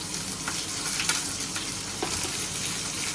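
Boiled ingredient dropped into hot oil with fried green chillies, giving a steady, close sizzle and crackle with occasional stirring.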